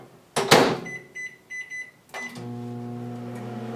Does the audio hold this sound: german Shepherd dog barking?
no